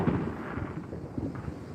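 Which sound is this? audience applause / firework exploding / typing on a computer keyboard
firework exploding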